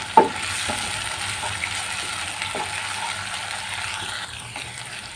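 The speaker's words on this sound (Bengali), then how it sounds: "আর এই রসুন বাটাটা দিয়েই কিন্তু খুবই সুন্দর করে পেঁয়াজের মতো খুবই সুন্দর করে বাদামি কালার করে একটু নাড়াচাড়া করে ভেজে নিতে হবে" Garlic paste sizzles steadily in hot oil in a pan, with soft intermittent stirring scrapes and a brief clack near the start, close and even throughout.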